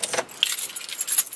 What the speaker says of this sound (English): I've got three key fobs here.